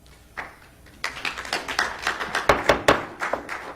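Audience applause breaks out at a county commission meeting, a burst of many hands clapping that starts after a second and carries on steadily with sharp, close claps throughout.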